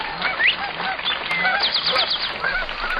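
Chukar partridge calling in a series of repeated harsh, clucking notes, fairly close and steady over a dense background of other bird chatter, with no talking.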